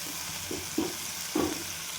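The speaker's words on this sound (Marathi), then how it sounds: "मी हिरवी मिरचीचं ठेचा टाकून घेते आणि हे पण छान परतून घेऊ तेलामध्ये" Crushed green chili thecha sautéing in hot oil, a soft steady sizzle with three brief stirring scrapes, close up and without speech.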